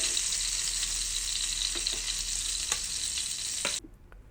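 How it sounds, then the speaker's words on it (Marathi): Tomatoes fry in a pot for dal khichadi, a bright continuous sizzle with a few spoon clinks and stirs, cutting off abruptly near the end. "मस्त असं मऊ झालेले आहेत टोमॅटो"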